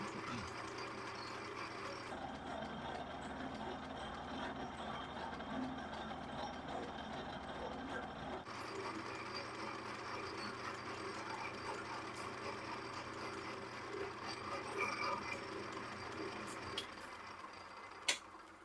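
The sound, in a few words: vintage machine running on auto feed cutting metal curls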